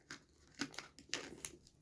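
Scissors handled near a photo album during a scrapbooking craft session, a few quiet separate clicks and snips with faint paper rustle, close and soft.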